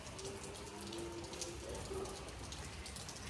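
Rain falls continuously in a faint, steady patter with soft drips, heard from a distance at low level, with a few faint tones underneath.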